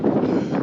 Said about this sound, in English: Here comes the winds!